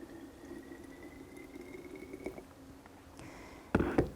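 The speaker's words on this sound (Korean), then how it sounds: "유리병에 팔팔 끓는 뜨거운 물을 4분의 1 정도 부어줍니다." Boiling-hot water is poured into a glass bottle, a quiet gurgling fill with a faintly rising tone, followed by a brief clunk near the end.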